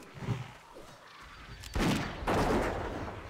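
An enemy trapper fires a gun in World of Warcraft: after soft, scattered combat sounds, two loud, sharp shot bursts ring out in quick succession, each trailing off into a short decay.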